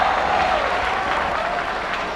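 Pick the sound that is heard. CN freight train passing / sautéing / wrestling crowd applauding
wrestling crowd applauding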